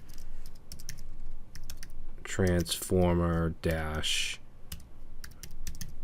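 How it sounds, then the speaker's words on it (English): Quick, steady clicking of keys on a computer keyboard as someone types code, continuing close up while someone speaks over part of it. "I'm having a lot of trouble talking and typing at the same time today."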